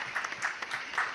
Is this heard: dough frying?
no